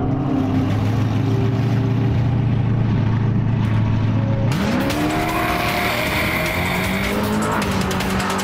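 Street race car doing a burnout in Los Angeles, its engine roaring loud and close while the tires squeal, the engine pitch sweeping up midway as the tires break loose.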